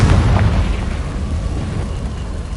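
A Confringo fire spell blasts in Hogwarts Legacy, a loud, dense burst with a low rumbling boom that stays heavy and broad throughout, alone with no voices.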